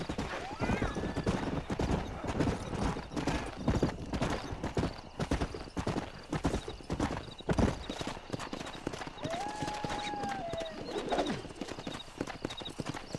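Horse hooves clip-clop in a steady, busy rhythm in Red Dead Redemption, with a horse whinnying now and then and voices talking over the clatter.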